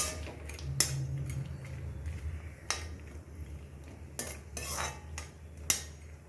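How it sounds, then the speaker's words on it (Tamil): Cashews and raisins frying in melted ghee for kesari are stirred with a metal spoon, making sharp clicks and scrapes against the pan over a faint, low sizzle. "நெய் உருகின உடனே இந்த முந்திரி பருப்பு, கிஸ்மிஸ் பழம் எல்லாத்தையுமே நான் கொஞ்சம் ஃப்ரை பண்ணி எடுத்து வச்சுக்கிடுவேன்."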